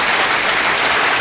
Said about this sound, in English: we wanted to give our brother some applause